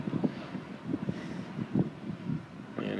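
Wind buffets a DJI Phantom 4 Pro drone flying at speed into a strong side wind, a steady rushing roar with gusty surges and low rumbling bursts throughout, no voices.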